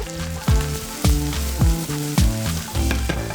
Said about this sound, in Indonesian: panaskan wajan, masukkan minyak samin atau bisa juga margarin atau minyak. Terus kita akan tumis sebentar daun bawang, tomat, bawang merah dan juga cabai rawitnya